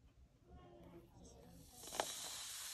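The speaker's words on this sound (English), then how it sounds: "I'm gonna add some vinegar to it and it's gonna start fizzing." Baking soda (one teaspoon) fizzing as vinegar is poured on, in a kitchen making honey spiced gingerbread cookies: quiet at first, then a steady bright hiss surges up and keeps fizzing close to the microphone.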